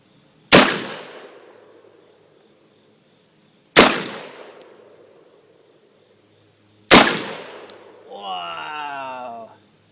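Shotgun loaded with buckshot fired three times outdoors at a zombie target, each blast sharp and loud with a long ringing decay, spaced a few seconds apart, followed by a voice.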